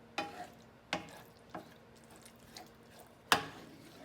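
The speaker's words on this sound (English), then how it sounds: "I'm just gonna give this a stir before we continue to add any of our other ingredients." A sloppy joe mixture is stirred in a pan with a spoon, four or five separate scraping strokes with short pauses between them and a faint sizzle underneath, the final stroke the loudest.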